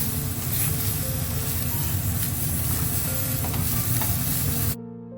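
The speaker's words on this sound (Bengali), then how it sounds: "ওইদিকে আলু ফুলকপিগুলো ভাজা হতে থাকুক" Potatoes and cauliflower fry in oil, a loud steady close sizzle that runs without pause and then cuts off abruptly near the end, no speech.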